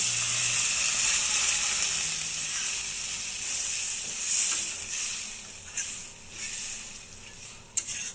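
Water poured into mustard masala frying in hot oil for a mustard katla fish curry, giving a steady loud sizzle and hiss that fades slightly, with a few sharp spits near the end.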